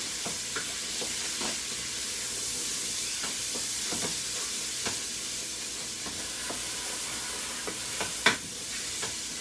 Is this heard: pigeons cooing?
no